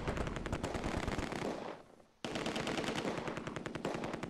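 Long bursts of MG42 machine-gun fire in the World War II strategy game Close Combat II, rapid and loud, pausing for about half a second before another sustained burst rattles on.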